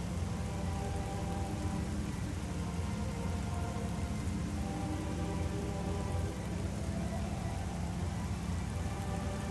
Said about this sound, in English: Dude, the rain splotches on Samus's visor, too